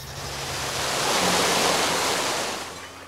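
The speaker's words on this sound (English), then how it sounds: "It looked like you conjured the rain yourself." A steady rush of rain pours down in the adventure game The Night of the Rabbit, a broad hissing wash that swells louder in the middle and eases off at the end, with no voices.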